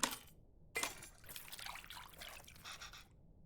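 Water pours in short trickling bursts in the cooking game Venba, two brief splashes followed by a longer steady stream that stops abruptly, with no talking.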